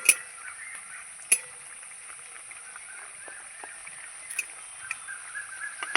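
Patties frying in a shallow layer of oil, giving a faint, steady sizzle broken by a few sharp crackles and pops.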